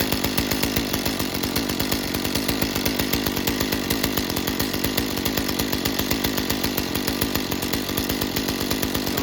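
A Stihl MS 201TC chainsaw idles steadily nearby, its two-stroke engine giving a continuous, rapid buzzing putter for the whole stretch, with no talk over it.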